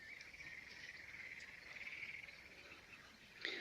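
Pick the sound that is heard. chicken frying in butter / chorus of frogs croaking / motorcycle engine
chorus of frogs croaking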